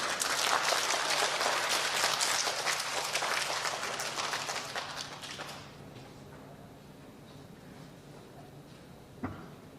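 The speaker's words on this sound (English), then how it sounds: "Let's give her a round of applause." An audience at an elementary school recognition ceremony claps loudly for about five seconds before the applause fades to quiet room tone, with a single sharp knock near the end.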